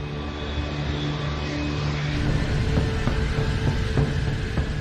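A Japan Airlines Boeing 747 jet taking off and climbing, a steady rumbling engine roar with a low drone, sustained and fairly loud, with no talk.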